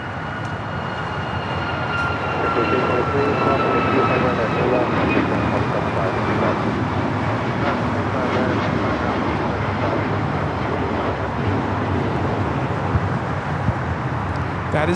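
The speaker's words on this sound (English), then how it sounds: "That is United Airlines 1293 taking off the Houston Intercontinental on the MAX 9." A United Airlines Boeing 737 MAX 9 departs Houston Intercontinental with a sustained, moderately loud jet rumble, faint whining tones gliding above the continuous roar.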